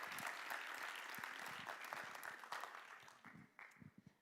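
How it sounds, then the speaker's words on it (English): Meeting attendees applaud, a faint, fairly steady patter of many hands that thins into scattered claps toward the end. "So big round of applause."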